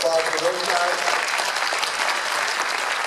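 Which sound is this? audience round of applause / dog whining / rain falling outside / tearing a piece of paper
audience round of applause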